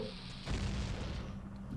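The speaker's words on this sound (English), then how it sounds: "grab this bomb and blow it up" A bomb blows up in The Legend of Zelda: Ocarina of Time, a single deep, loud blast that rumbles and fades over the game's background music.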